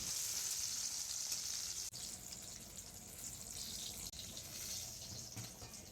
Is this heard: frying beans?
yes